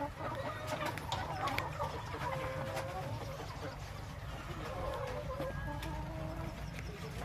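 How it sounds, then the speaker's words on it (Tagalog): A large Bantayan poultry farm is filled with continuous clucking from many chickens, layered calls near and far over a low steady hum, with occasional faint talking. "ang dami talagang manok dito laki ng poultry idol"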